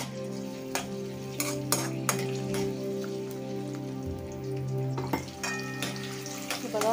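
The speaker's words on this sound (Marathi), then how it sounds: "याच्यामध्ये आपण कांदा टाकून घेणार आहे। कांदा हलवून घ्यायचा।" Onion frying in a pan for masala chicken liver, a continuous sizzle broken by repeated clinking scrapes of a spoon stirring against the pan, with a faint hum underneath.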